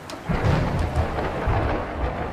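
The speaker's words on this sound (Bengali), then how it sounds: "দূরে কোথাও বাজ পড়ল প্রচণ্ড জোরে" Loud, heavy thunder from a distant lightning strike rolls over a muddy rural village road during a windy storm. A deep, sustained rumble fills the whole stretch with rain hissing underneath, and no voices are heard.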